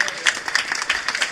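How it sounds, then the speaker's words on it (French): Audience at a party anniversary rally applauds, a short, dense burst of many hands clapping at once, fairly close and loud. "On va applaudir."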